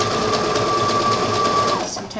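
A sewing machine stitches a tank top in one steady, continuous run of close mechanical whirring that stops abruptly near the end.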